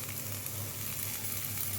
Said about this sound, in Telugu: నెత్తళ్ళు వేసుకొని వేయించుకుందాం.